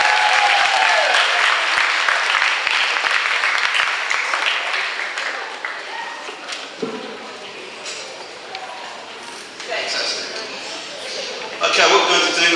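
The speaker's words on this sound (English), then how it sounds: "Give yourselves a round of applause." Audience applause in a school hall at Harris Academy Peckham, a full round of clapping that gradually thins, followed by a voice speaking and a short burst of clapping near the end.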